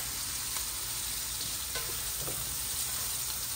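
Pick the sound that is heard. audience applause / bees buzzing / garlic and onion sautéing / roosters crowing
garlic and onion sautéing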